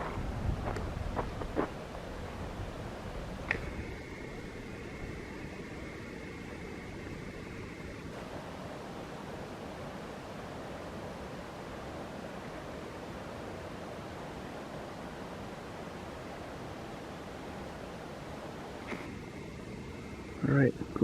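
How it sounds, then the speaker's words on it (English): River water rushes over rocks below with a steady, broad roar like a waterfall, constant and moderately distant, heard alone apart from a few brief handling knocks. "And that water sounds like a waterfall down there,"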